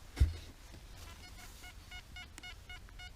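A metal detector sweeps over a buried find at a Roman silver coin hoard site, giving faint, rapid electronic beeps in short repeating bursts over quiet background noise after a single low thud.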